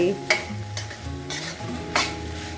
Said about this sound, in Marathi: चलो मिक्स कर देते हैं अच्छे से फिर से